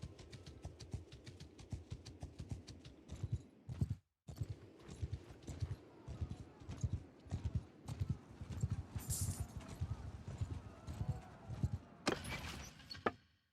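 Horse hooves clip-clop in a steady rhythmic patter in the Warsails video game, fairly close and continuous, with a brief pause partway through and a louder clatter near the end.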